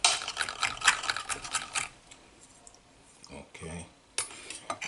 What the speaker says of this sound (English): Try to mince the chilies up